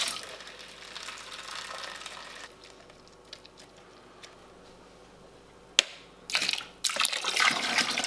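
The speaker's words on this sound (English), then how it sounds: "I'm going to give those cans another quick rinse out" Water rinsing out home brew lager kit cans, with a steady splashing rush from a tap at the start, a quieter stretch with small clinks, then a sharp knock and another loud burst of running water.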